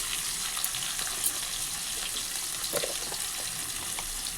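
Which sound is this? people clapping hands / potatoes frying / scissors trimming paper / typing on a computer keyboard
potatoes frying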